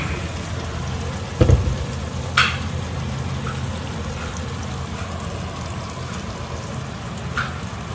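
Oncom fries in a pan with a steady continuous sizzle, broken by a few short louder spatters and clinks.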